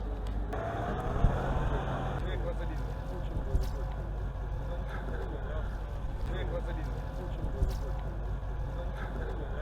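A tractor pulling a heavy trailed BDVP-4.2 disc harrow at a farm field demonstration sets off, giving a steady low diesel engine rumble close by, with someone talking over it.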